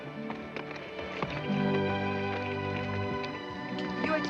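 Horse hooves clip-clopping near a stalled carriage in a 1959 Western setting, a soft irregular tapping under a sustained orchestral music bed, with no clear speech.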